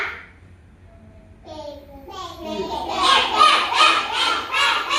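After a quiet pause and a few tonal voices, children break into a chorus of repeated quacking imitations, loud and overlapping.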